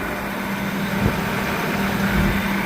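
An International 786 FWA tractor engine idles steadily at close range, a constant low rumble with a brief knock near the middle and no talking.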